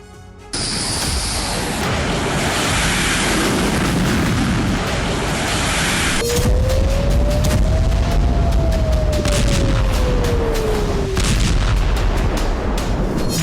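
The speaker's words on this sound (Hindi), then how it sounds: "जहां इजरायली सेना लगातार भीषण बमबारी कर रही है।" Heavy Israeli bombardment strikes Beirut's Dahiyeh district. A continuous, loud roaring rumble carries repeated booms, and a whining tone rises and falls through the middle.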